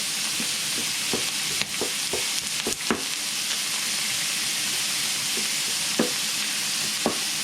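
Minced meat for chilli con carne frying in a heavy-bottomed pan, a loud, steady hissing sizzle broken by sharp clacks of a utensil breaking up the mince, with no voices.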